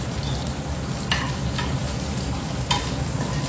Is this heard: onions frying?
yes